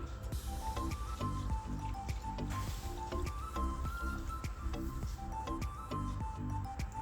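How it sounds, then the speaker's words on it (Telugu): Split chana dal being washed by hand in a bowl of water, with continuous close squishing and gentle sloshing marked by soft ticking clicks of grains and drips, steady and fairly quiet. "వాటర్ పోసుకొని రెండుసార్లు బాగా వాష్ చేసుకోవాలండి"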